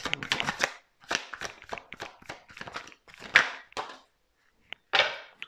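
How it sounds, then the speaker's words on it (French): Oracle cards being shuffled, handled and laid out on a table, with a run of close, crisp flicks and soft slaps, then short pauses and a last few snaps near the end, with no talking. "on va recouvrir quelques cartes"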